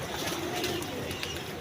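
Pigeons cooing at a rooftop coop, soft low coos amid steady background noise, with faint people nearby.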